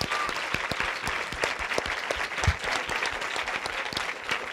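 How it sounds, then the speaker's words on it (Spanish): An audience applauds at a conference on journalism and violence, with many hands clapping in a steady, even stream, moderately distant and sustained. "Un aplauso más fuerte"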